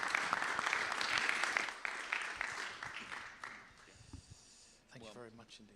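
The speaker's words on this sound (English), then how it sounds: "Please give them a round of applause for participating today." Forum audience at a climate conference applauding panelists, a fairly faint burst of clapping that fades after a few seconds while voices talk over it.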